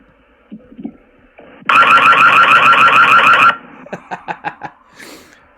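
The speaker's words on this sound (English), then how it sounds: "Yeah, that was the alarm." A Ring Floodlight Cam security camera's loud pulsing alarm siren blares close by for about two seconds, then a few shorter bursts follow before it stops.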